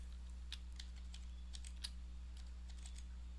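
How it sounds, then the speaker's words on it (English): The down arrow key on a computer keyboard tapped repeatedly, producing faint, irregular clicks close by over a steady low hum. "Now I'm just nudging with my down key on the keyboard"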